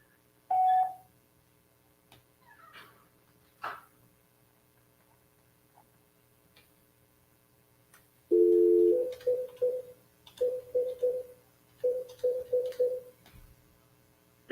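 Telephone tones play on a call to a disconnected number: one short beep early on, then after a quiet stretch a louder sequence of clipped tone bursts in quick groups of three or four, over faint mains hum.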